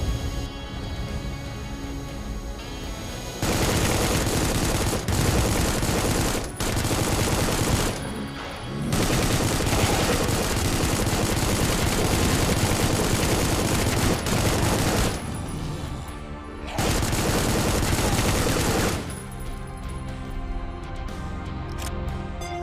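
Shotgun fire in the horror shooter Supplice comes in long, dense, loud bursts of repeated blasts, broken by a few short quiet gaps, with no talk over it.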